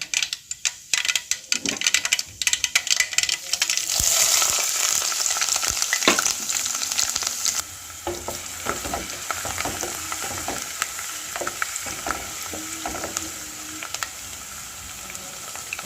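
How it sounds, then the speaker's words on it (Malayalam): Garlic, ginger and chillies sizzle in hot oil for a dried mango pickle, with steady close frying hiss and repeated scraping and clicking of a spoon stirring the pan throughout. "ഇതിൻ്റെ എല്ലാം പച്ചമണം മാറുന്നവരെ നമുക്കൊന്ന് വഴറ്റി കൊടുക്കാവേ"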